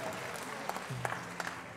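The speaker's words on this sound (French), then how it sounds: "Donc on peut l'applaudir." Soft applause rises from the crowd at the EXP'HOTEL 2019 hospitality award ceremony for the Trophée Philippe Etchebest, a brief, quiet patter of clapping with a few louder claps standing out.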